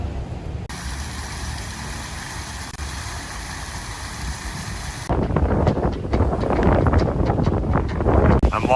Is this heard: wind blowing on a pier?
yes